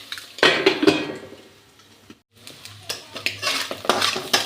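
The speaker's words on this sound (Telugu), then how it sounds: "సో వెజిటేబుల్స్ అయితే కొంచెం ఫ్రై అవ్వాలి కదా" Vegetables for egg rice fry in a pan while a metal spoon stirs them. Loud scraping and clinking of the spoon against the pan sounds over a soft sizzle, with a short pause before the stirring resumes, and no voices.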